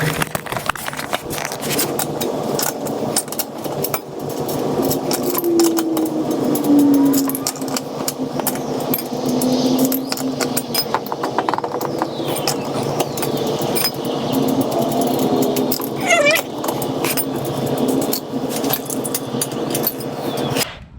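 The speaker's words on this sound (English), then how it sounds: "now that we have all the lug nuts off, we're going to take off the wheel" Lug nuts come off the rear wheel of a Subaru Outback, with rapid ratcheting clicks and metallic clatter over a continuous, fairly loud mechanical whir that lasts the whole stretch.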